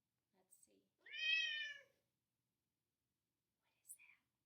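A single cat meow, clear and fairly close, rising and falling over about a second, with faint rustles and a short breathy sound before and after it.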